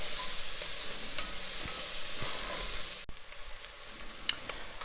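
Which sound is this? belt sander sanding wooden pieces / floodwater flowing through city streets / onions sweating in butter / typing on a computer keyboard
onions sweating in butter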